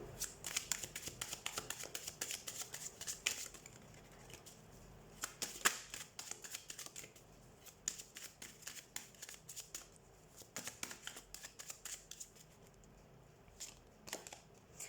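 Tarot cards shuffled by hand in a steady run of crisp riffling and flicking bursts, close and fairly quiet, with brief pauses between shuffles.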